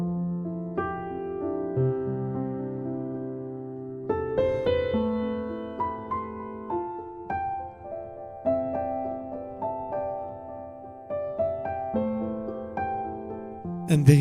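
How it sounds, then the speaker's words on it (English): Warm, soft Steinway D concert grand from a Spitfire virtual instrument library plays a slow, sustained passage of chords and melody, each note ringing out and decaying, heard clearly and alone with no talking. "magnificent, warm, soft Steinway D piano from Spitfire"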